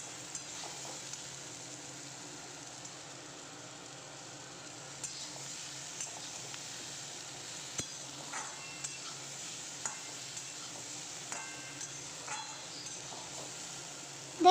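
Mixed vegetables frying in a pan as ginger-cumin paste is stirred in, a soft low sizzle with spatula scrapes and light clicks recurring through the stretch.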